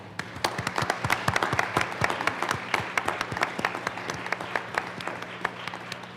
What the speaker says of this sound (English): Please, let's give a round of applause for our women.